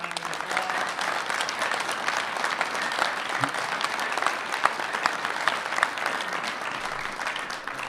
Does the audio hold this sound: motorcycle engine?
no